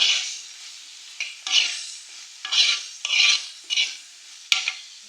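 A spoon stirs ivy gourd and green chillies in a pan in six or seven separate bursts of gritty scraping and faint sizzle, each close and distinct, with quiet gaps between them.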